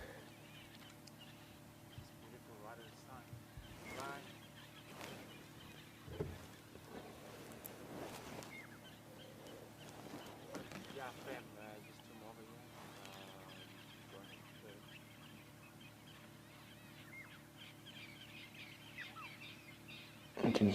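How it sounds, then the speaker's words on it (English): Faint birdsong and scattered chirps in the distance, a soft outdoor dawn chorus at sunrise in the Sabi Sand safari area, beneath low, steady background noise, with a voice occasionally present. "can hear the dawn chorus of birds has suddenly decided to wake up"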